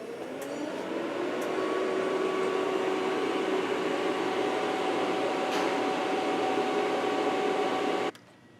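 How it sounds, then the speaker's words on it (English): An air conditioning recycling machine draws refrigerant out of a vehicle, a steady mechanical drone with a tonal hum that runs evenly for several seconds, then stops abruptly. "They hooked up our air conditioning recycling machine so they could vacuum out the refrigerant."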